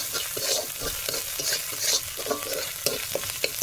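Spices with salt and turmeric fry in a pan and are stirred steadily, giving a continuous close sizzle broken by rhythmic scraping strokes.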